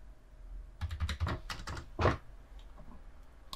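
Quick bursts of keystrokes on a computer keyboard as a new password is entered, a rapid cluster of clicks followed by a few sharper taps, close and alone with no talking.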